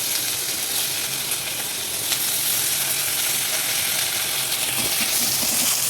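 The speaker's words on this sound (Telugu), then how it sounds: "క్యారెట్ ఆలుగడ్డ వేసేసుకోవాలి." Carrot and potato pieces fry in hot oil, giving a steady close sizzle with faint stirring clinks, no voices.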